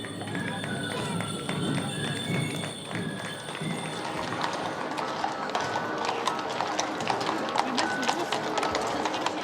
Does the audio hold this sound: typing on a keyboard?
no